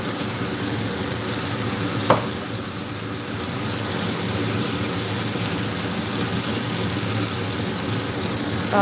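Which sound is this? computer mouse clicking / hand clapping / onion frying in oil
onion frying in oil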